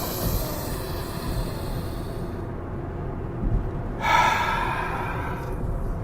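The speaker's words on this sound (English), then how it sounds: "3 deep breaths" Deep breathing through the nose, close and fairly loud: a long steady inhale followed by a slower exhale, with a rushing airy texture and no talking.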